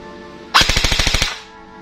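An Mk18 Mod 0 airsoft blowback rifle, converted AEG, fires a short full-auto burst of about nine rapid, evenly spaced sharp cracks, loud and close, then stops.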